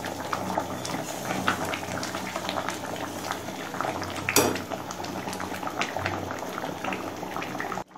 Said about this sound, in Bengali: এবার ফুল আছে ঢাকা না দিয়ে কিছুক্ষণ ফুটিয়ে নেব